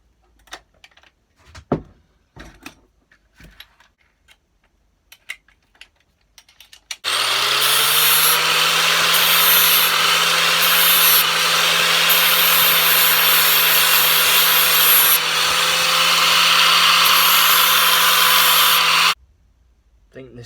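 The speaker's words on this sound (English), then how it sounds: "we'll change the disc on the the angle grinder to a sanding wheel, and we'll sand this down" After a few quiet taps and clicks, an angle grinder fitted with a sanding wheel roars up and grinds steel steadily and loudly for about twelve seconds, then cuts off.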